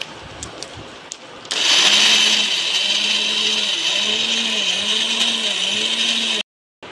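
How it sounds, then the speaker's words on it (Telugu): After a brief quiet stretch with a few light knocks, a mixer grinder switches on loudly, whirring and grinding flattened rice into powder with a steady drone and rhythmic wobble, then cuts off abruptly. "మనము సెకండ్ టైము మిక్సీకి వేసుకోవాలి ఫ్రెండ్స్."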